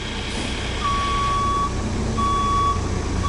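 A truck backs up slowly on a driving skills course while its reversing alarm sounds in steady high beeps over a loud, constant engine rumble; no one speaks.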